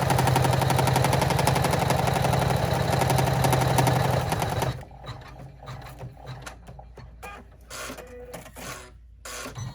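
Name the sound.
sewing machine top stitching a zipper bag clutch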